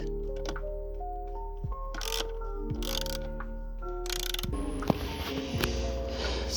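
A socket ratchet with a 10 mm socket loosening bolts on the air filter cover of a Fiat Tipo, rapid close clicking in short bursts between pauses, with a low steady hum underneath.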